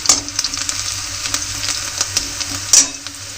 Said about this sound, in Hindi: तो संगवारी थोड़ा सा प्याज भुजा दीजिए।